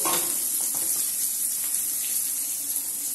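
Chopped onions sautéing in a pan for Tamil beetroot poriyal, a steady broadband sizzle under soft scraping stirs throughout, close and continuous, with no voices.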